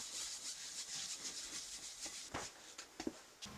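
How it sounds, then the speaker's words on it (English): A synthetic abrasive pad buffs residual paint off a surface, giving a soft, continuous rubbing scrub with rhythmic strokes, faint and close, ending in a few sharper scrapes and taps. "I remove any residual paint by buffing the surface with a synthetic abrasive pad."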